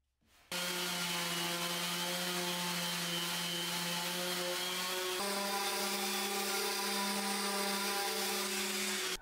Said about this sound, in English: and then give it all a sand down